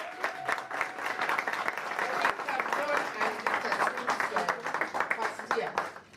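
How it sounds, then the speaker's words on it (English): A room full of people at an award ceremony claps enthusiastically for an honoree, a sustained burst of applause that swells and then thins into scattered claps near the end. "Let's clap for her."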